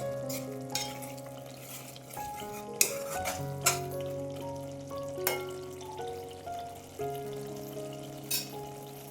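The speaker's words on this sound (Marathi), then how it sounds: "मसाला आता आपला तेलामध्ये छान भाजून" Spice paste made with black sesame sizzling in hot oil for a cluster bean curry, a steady close frying crackle with periodic soft clinks of a spoon stirring the pan.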